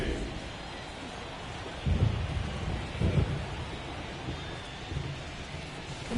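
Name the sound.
rain and thunder in video game MLB The Show 24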